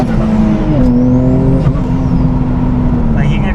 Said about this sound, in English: you can just hear that turbo sing